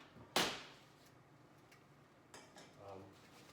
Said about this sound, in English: push it back in the oven